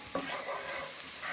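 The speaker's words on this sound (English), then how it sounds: "we're gonna toss in our garlic cloves. So that's 4 cloves of garlic. Yep, and we are gonna fry this up for 30 seconds." Four garlic cloves hit hot oil in a pan, bringing a short burst of close sizzling with a quick stirring rattle near the start.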